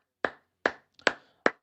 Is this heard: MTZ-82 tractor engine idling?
no